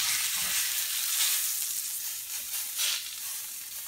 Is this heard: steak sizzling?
yes